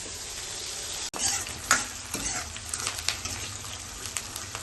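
Paneer frying lightly in a pan for shahi paneer, a steady close sizzle with occasional stirring clicks and scrapes throughout.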